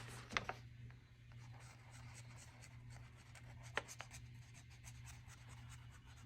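A savings challenge tracker on paper being colored in by hand, faint soft scratching strokes with a couple of sharper taps, close and quiet over a steady low hum.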